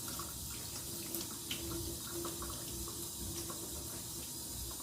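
Tap water runs steadily into a sink while turkey wings are rinsed, making a continuous splashing wash with small irregular spatters and no talking.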